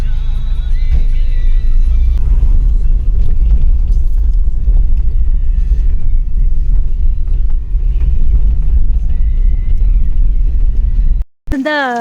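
Road traffic of cars moving past on a street near a monastery in India, a loud continuous low rumble of engines throughout that cuts off abruptly near the end, with some voices mixed in.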